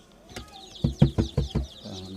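Thin, high peeping of chicks close by, with a short run of low, rhythmic clucking pulses in the middle.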